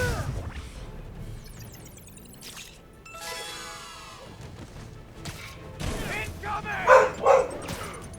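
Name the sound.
dog barking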